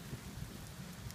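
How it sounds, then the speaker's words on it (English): Rain begins falling on a covered porch in Tuscany, a soft, steady patter close by with a low, faint rumble beneath, brief and without voices. "It's starting to rain."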